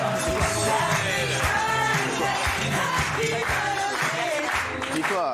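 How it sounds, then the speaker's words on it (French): An audience on a French television talk show applauds steadily for a few seconds, with dense clapping and occasional whoops and yells mixed in. "Applaudissements pour lui."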